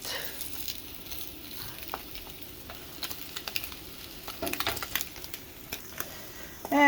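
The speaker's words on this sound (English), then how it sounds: "And you just keep these flipping until they get to the right amount of" Slices of Spam fry in a pan with a steady, low background sizzle, punctuated by a few light clicks and scrapes of flipping, and a louder clatter right at the end.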